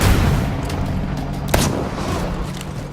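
A single sharp gunshot in the stealth action game Dishonored 2, fired alone against a dense rumbling game background with no talk.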